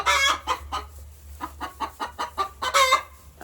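A hen on a farm clucks and fusses at another hen in a nest hole, a rapid series of close, loud clucks and squawks in uneven rhythm, ending with louder cackles.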